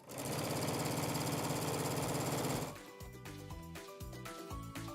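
A sewing machine stitching a pinwheel quilt block, a rapid even mechanical chatter for about two and a half seconds, then stopping, followed by lighter handling knocks and clicks.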